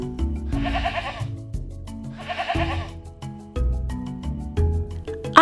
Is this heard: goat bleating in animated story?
yes